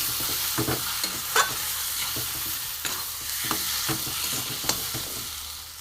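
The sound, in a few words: stirring and frying a pea mixture in a pan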